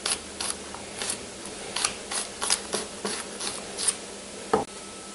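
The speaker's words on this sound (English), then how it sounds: "Then just start chopping them up." A knife chops ginger and garlic on a cutting board in a home kitchen, a series of soft irregular taps and scrapes, close and fairly quiet, with no talking.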